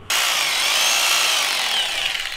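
A power drill bores a pilot hole into a concrete garage floor, a loud, harsh continuous grinding whine that starts abruptly and holds steady before easing slightly at the end.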